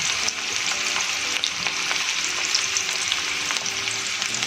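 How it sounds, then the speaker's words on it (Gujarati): Chopped onion hitting hot oil while cooking Pahadi daal, a steady, dense sizzle and crackle that holds evenly throughout with no voices. "ત્યારબાદ એમાં આપણે સમારી ડુંગળી એડ કરી દઈશું."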